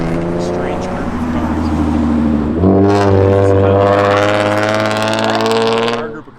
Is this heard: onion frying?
no